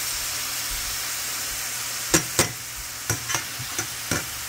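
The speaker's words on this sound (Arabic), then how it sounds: "طبعا البصل بخليه يقبل شوي." Onion and mushrooms frying in a pan give a steady sizzling hiss throughout, with several sharp scraping stirs near the end, close and clear with no voices.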